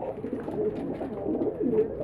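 Pigeons and squabs kept by a breeder coo in low, throaty, repeated calls, close and steady throughout with no talking.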